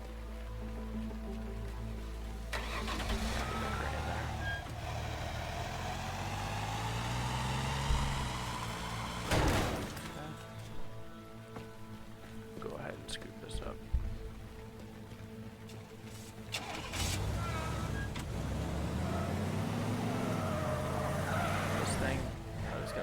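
A car in the video game Teardown drives with a steady engine drone that revs up and down in long sweeps, with brief tire squeals and knocks mid-run, under occasional quiet talk.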